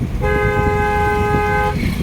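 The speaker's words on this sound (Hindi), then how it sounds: "बाइक वाले के लिए लॉन्ग हॉर्न दीजिए।" A single sustained car horn blares loudly for about a second and a half over steady low traffic rumble.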